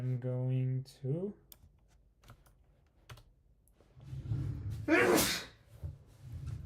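A single sharp sneeze bursts out near the end, loud and close, after a voice and scattered keyboard typing and clicks in a quiet room.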